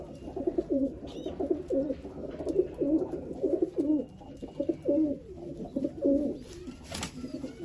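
Teddy breed pigeons at a breeding loft coo continuously in low, throaty rolling phrases, close and clear, repeating steadily with no talking.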